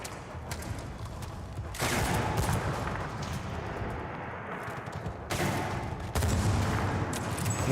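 A 50 cal machine gun in the Battlefield 6 video game fires in loud sustained bursts, with pauses between them and dense battle noise around, no talk.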